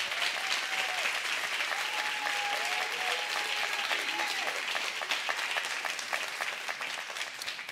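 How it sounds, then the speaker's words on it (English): A church congregation claps in sustained, dense applause throughout, fading slightly near the end. "So would you give her another round of applause, too?"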